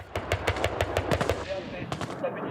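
Bursts of gunfire ring out during joint Russian and Belarusian military exercises with troops, tanks and artillery, with rapid repeated sharp cracks in close succession over a busy, noisy background.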